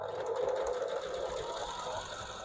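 Sewing machine running steadily, stitching binding down along the edge of a fabric napkin with ruffles and mitered corners; a continuous close whirring hum with no pauses.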